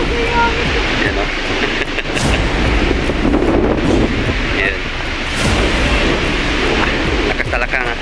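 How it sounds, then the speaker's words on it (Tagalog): Strong wind buffets the microphone in a loud, constant roar, with a voice speaking briefly underneath. "Lakas talaga ang hangin dito"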